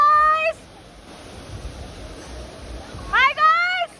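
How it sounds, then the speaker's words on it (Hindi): A small waterfall in Keylong gives a steady, soft rush of falling water, with people talking over it at the start and again near the end. "we are going to enjoy this झरना"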